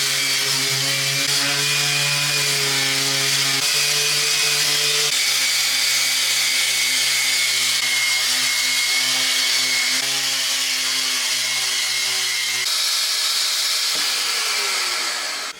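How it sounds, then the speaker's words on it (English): Power sander running continuously on a 200-year-old pine cabinet, a steady loud whine with sustained tonal hum that shifts pitch slightly as pressure changes, then winds down at the end with no talking. "Obviously I'm sanding this,"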